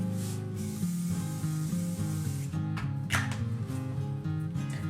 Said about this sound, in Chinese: 这个定妆喷雾是新款的，它定妆效果会更好一点。